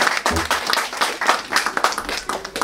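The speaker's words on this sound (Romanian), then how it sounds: "Aplaudați-o!" A live audience applauds a singer at a bookstore gathering in Calafat, the clapping dense and sustained throughout, with a few faint voices underneath.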